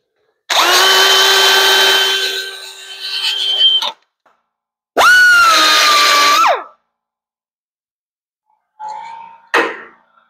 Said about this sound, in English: I can get my wire wheel in here to take the dirt and debris off the back so I can see and get a clean weld.